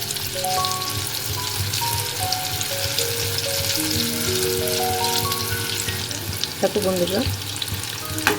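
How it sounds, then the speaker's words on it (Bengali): Brinjal (eggplant) sticks deep-fry in oil over medium-high flame, giving a loud, continuous crackling sizzle. Occasional clinks and a brief scrape of stirring are heard, and a voice speaks briefly near the end. "এগুলোকে ভালো করে ডিপ ফ্রাই করতে হবে"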